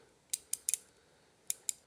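A Bonamici suspension adjuster on a BMW M1000XR gives five or six sharp, crisp metallic clicks spaced irregularly over under two seconds, close up and quiet, with near silence between them.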